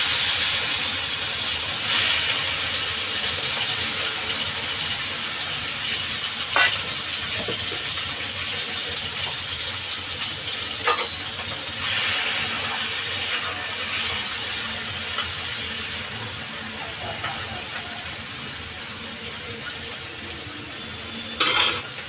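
Prawns rubbed with salt and turmeric sizzle steadily in mustard oil in a wok, a loud, continuous frying hiss with a few brief clinks and pops, close up and without voices.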